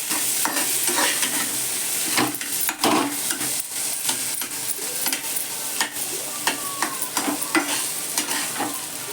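Vada pav potato filling sizzles steadily in a hot pan as turmeric goes in and it is stirred, a loud continuous fry with scattered scraping clinks of the spoon and no talking.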